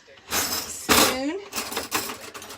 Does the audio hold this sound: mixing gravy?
yes